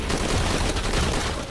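Enemy gunfire in Shadow of the Tomb Raider, a dense, loud fusillade of rapid shots rattling continuously, close and heavy.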